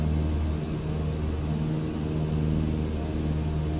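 Steady droning aircraft engine at high RPM in MS Flight Simulator 2020, a constant loud rumbling hum with little variation and no talk.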